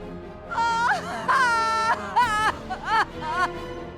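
A woman cries and wails in rising and falling sobbing bursts, close by, with short pauses between the cries.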